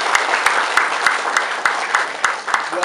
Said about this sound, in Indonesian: Tepuk tangan buat anak-anak.